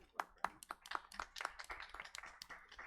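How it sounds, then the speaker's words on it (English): A handful of people at a board of education meeting clap briefly; sparse, irregular hand claps, fairly faint, without much build. "I guess we'll clap for them too."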